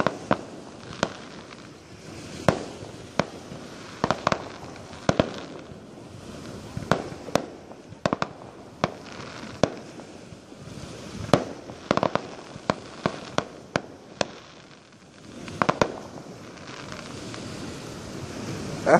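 Fireworks burst at a beach campground, with sharp cracks and pops scattered irregularly across the scene, some in quick clusters, over soft surf and wind noise, moderately distant.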